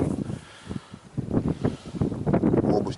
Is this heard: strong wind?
yes